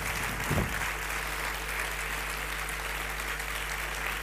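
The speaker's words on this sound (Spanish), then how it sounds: "¿Puede darse un aplauso a usted misma?" A seated auditorium audience claps in continuous, even applause that holds at a moderate level throughout, with a faint steady hum behind it and no speech.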